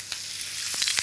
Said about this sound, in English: Let's get that into a pan with a good glug of olive oil.